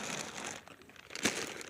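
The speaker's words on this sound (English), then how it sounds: "a third plastic bag." Plastic bag crinkled by hand at a stealth campsite in the morning, a quiet continuous rustle with one brief sharper crackle near the end.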